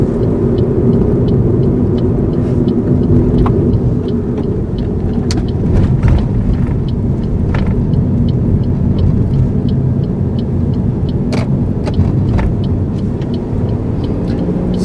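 A car doing a U-turn at a roundabout in Chertsey on a driving test route, heard from inside as a steady, loud engine and road rumble with no talk.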